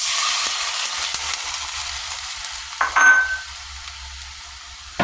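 Sweet and sour sauce bubbling up to a boil in a pan as fish balls wait to be added, a steady close simmering hiss with a brief louder stir-and-sizzle burst midway.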